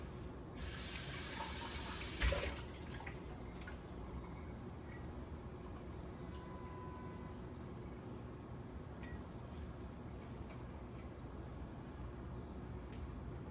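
A jar is rinsed under a running tap, with a brief louder gush of water near the start, followed by a steady, low background rush and occasional light clinks.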